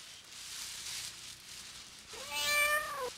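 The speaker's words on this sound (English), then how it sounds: "He even sets aside some quality time to bond with the family cat." A family cat gives a single clear, rising-then-falling meow close by, after a stretch of faint background hiss.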